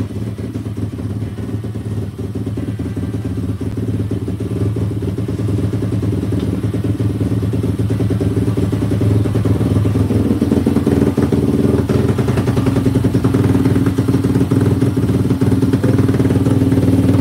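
A small Daytona 212 cc engine catches and settles into a steady, even idle, running close by without a break.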